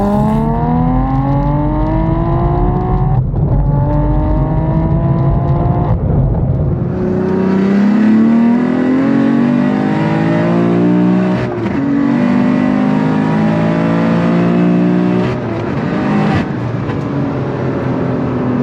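A manual BMW F82 M4 built to over 900 wheel horsepower accelerates through the gears. The loud engine note rises steadily, dips briefly at each gear change and climbs again, heard close and continuously from inside the car.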